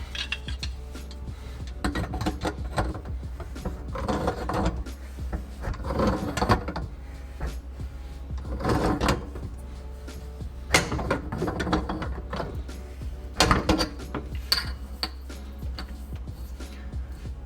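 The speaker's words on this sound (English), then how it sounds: "And just take a wrench and snug that up." A wrench tightens the nut on a kitchen sink drain from below, giving intermittent metallic clinks, rattles and ratcheting clicks at close range with no talk.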